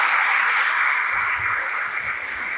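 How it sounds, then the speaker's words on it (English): Steady applause from an audience at a school assembly, honoring the vice principal; dense, continuous clapping that holds evenly at moderate loudness for the whole stretch, with no voices over it. "So I think a round of applause for the vice principal"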